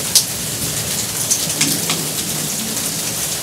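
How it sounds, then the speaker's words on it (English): Heavy monsoon rain beats down steadily, a dense, close hiss of drops with a few sharper splashes and drips standing out. "So I'm just going to sit here for a while and enjoy this monsoon, and I think the rain died down a little bit."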